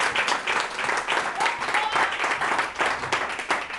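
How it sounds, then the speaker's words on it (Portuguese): A church congregation at a Brazilian worship service claps in sustained, even applause for several seconds, close and fairly loud, with no talk over it. "dá uma linda salva de palmas para o Senhor em nome de Jesus"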